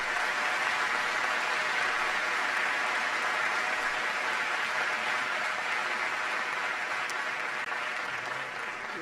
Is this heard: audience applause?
yes